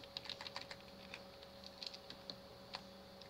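Rapid, light keystrokes on a computer keyboard while chatting in the HexChat IRC client, irregular clusters of clicks close by with no talking.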